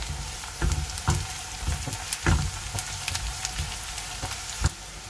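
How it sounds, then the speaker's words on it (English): Onions and a tablespoon of ginger garlic paste fry in a pan, a continuous crackling sizzle punctuated by repeated thumps and scrapes of a spoon stirring the mixture. "I am going to add 1 tablespoon of ginger garlic paste. And we are going to cook this until the raw smell of ginger garlic goes"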